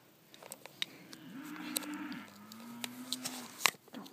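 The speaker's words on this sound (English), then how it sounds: "I don't know what the cows are mooing about." A cow gives a long, low moo, drawn out over a couple of seconds, with scattered clicks and knocks close by.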